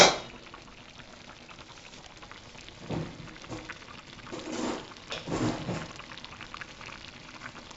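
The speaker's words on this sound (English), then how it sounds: "we're going to check a sauerkraut cooking nicely" Homemade sauerkraut simmering in a pot, a soft, continuous bubbling and gurgling that holds steady at low level, swelling into a few louder watery surges near the middle and the end.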